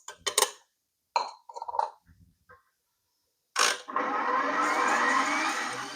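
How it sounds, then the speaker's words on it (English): An electric mixer beating eggs and sugar: a few light clinks and knocks of bowl and beaters first, then the motor kicks in as a loud, steady whirring hum that holds to the end. "in a mixer, I will beat the eggs and sugar until sugar is dissolved"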